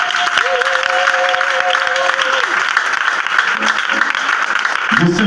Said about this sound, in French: Est-ce que tu peux donner au fond l'acclamation?